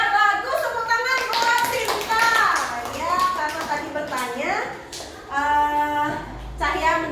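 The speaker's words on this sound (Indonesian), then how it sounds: "tepuk tangan buat Sinta" Children in a classroom clap together for a classmate, short bursts of patterned clapping mixed with their chanting voices and a teacher's voice, close and lively.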